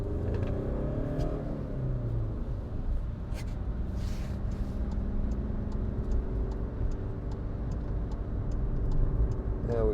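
A 2016 Skoda Fabia 1.4 TDI Monte Carlo diesel hatchback drives along a wet road, its engine droning steadily with rising and falling revs, tyre and road noise, and faint ticking, heard from inside the cabin.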